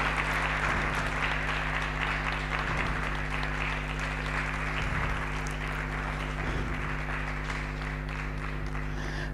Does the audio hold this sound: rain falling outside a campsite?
no